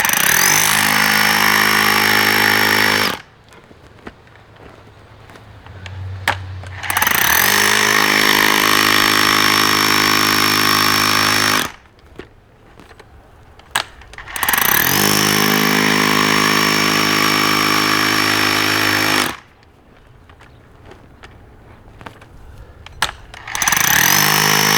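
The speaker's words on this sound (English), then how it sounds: "we'll have to use the hammer drill with a chisel bit" Hammer drill fitted with a chisel bit breaking rocky ground, loud sustained hammering in three long bursts separated by brief pauses with quieter clatter.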